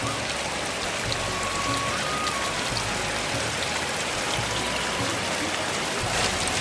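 Steady rain pours onto a tin or asbestos roof in a West Bengal village, a continuous close patter with dripping water and no speech.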